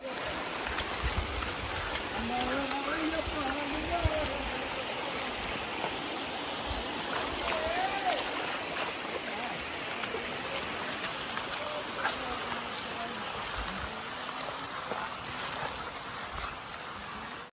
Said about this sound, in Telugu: అక్కడక్కడ ఇలాంటి జలపాతాలు వస్తాయి